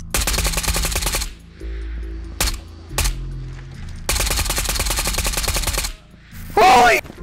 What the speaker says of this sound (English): There's a Fennec shooting at him.